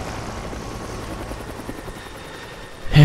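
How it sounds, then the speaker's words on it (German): A heavy helicopter in Rise of the Tomb Raider thunders with steady rotor chop, loud and sustained, and a sudden louder burst at the very end. "das ist aber ein heftiger Helikopter"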